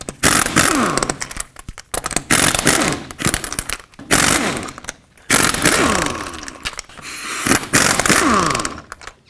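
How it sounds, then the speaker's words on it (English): Lug nuts coming off a 1997-2003 Ford F-150 front wheel with a 21mm socket: loud, close bursts of an impact wrench hammering in repeated runs, separated by short pauses. "take off all 5 of your lug nuts with a 21mm socket"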